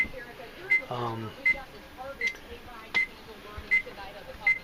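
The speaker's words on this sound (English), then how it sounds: "why the microwave convection oven is beeping like that" Short electronic beeps from a microwave convection oven in an R-Pod RV repeat at a steady interval, fairly quiet, with a brief voice in the background.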